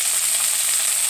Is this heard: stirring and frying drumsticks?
yes